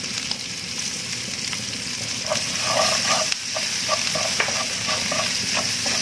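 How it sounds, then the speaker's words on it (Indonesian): Garlic and ginger sautéing in a pan, a constant close sizzle with stirring clatters and scrapes of a spatula growing busier midway, with no talking. "Ini ditumis hingga bawang putihnya tercium harumnya nggih."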